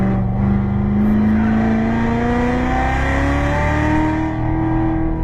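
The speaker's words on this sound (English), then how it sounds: "Squeeze throttle, full throttle." A race car engine at full throttle climbs steadily in pitch as it accelerates, loud and close throughout, with no talk over it.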